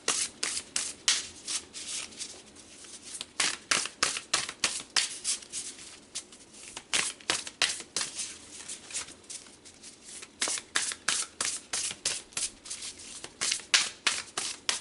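Tarot cards shuffled by hand for a reading, a steady run of crisp riffling and slapping bursts in quick rhythmic clusters, close and fairly quiet, with short pauses between passes.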